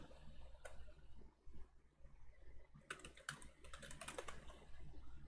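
Keys on a computer keyboard are tapped to enter a terminal command on Linux Mint, first a few scattered clicks and then a quick burst of typing, quiet and close.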